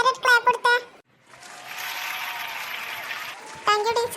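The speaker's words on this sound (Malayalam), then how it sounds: "എല്ലാവരും ക്ലാപ്പ് കൊടുത്തേ" Classroom of young children clapping together on a teacher's cue, a steady broadband patter lasting a couple of seconds between bursts of a child's and an adult's speech.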